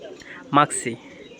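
A blue Maxi-coloured pair of Murasala fancy pigeons gives a short cooing call, close and soft, with a brief bird sound around it.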